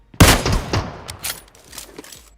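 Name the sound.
gunfire in PUBG video game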